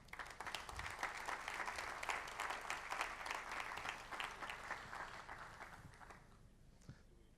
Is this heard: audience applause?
yes